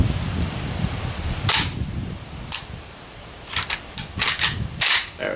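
A 7.62 M70 ZPAP rifle firing 122-grain full metal jacket rounds on a range: several sharp cracks, first spaced apart, then a quicker cluster of shots near the end, over steady outdoor background noise.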